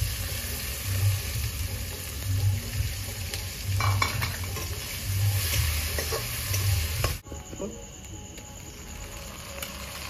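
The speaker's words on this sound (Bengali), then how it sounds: "পেঁয়াজ দিয়ে দিচ্ছি।" Onions frying in a pan with whole cumin and chilli, a steady close sizzle with occasional stirring and utensil scrapes, dropping to a quieter crackle near the end.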